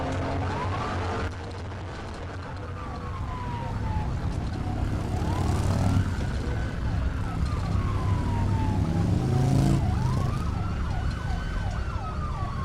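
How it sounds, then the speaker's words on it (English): Police sirens wail in rising and falling sweeps over traffic rumble during an ATV chase through residential cul-de-sacs, growing louder and overlapping as they approach. "police in hot pursuit, sirens echoing through the cul-de-sacs"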